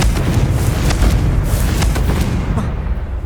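Confringo blasting curse fired in Hogwarts Legacy, a continuous loud rumbling boom of explosive spell impacts with dense low-end roar, fading slightly at the end.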